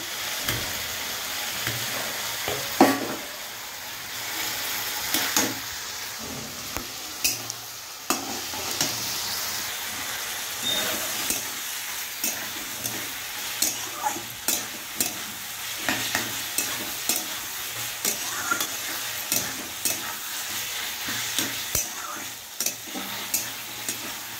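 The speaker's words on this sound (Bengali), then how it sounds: "এগুলো নাড়াচাড়া করে একটু ঢেকে দেবো।" Vegetables frying in a pan with a constant soft sizzle, punctuated by regular sharp taps and scrapes of a spatula as they are stirred, close and fairly quiet throughout.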